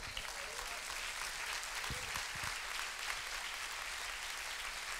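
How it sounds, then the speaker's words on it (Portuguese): Congregation applauding during a church sermon, a steady wash of distant, fairly faint clapping that fills the whole stretch without a break. "Eu estou achando esse aplauso um pouco fraco."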